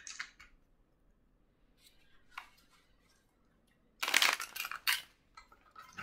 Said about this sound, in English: I'm going to shuffle these cards.